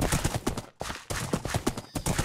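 Horses in the Minecraft video game, rapid clip-clop hoof steps and busy game sound, loud and continuous with brief gaps.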